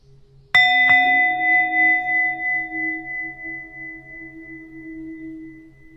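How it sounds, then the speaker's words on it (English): A single strike of a meditation bell during Zen practice rings out clearly, then a long pure tone slowly fades with a gentle waver over several seconds in a quiet room. "And then I'll just ring the bell and observe the breath"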